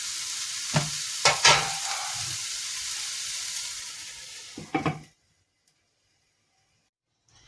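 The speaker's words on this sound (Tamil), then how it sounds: "போட்டுட்டு இது நல்லா வதங்கணும்" Chicken curry ingredients, made without tomato, sizzle and fry in a pan while a spoon stirs and scrapes with several sharp knocks, then the sound cuts to near silence once the lid goes on.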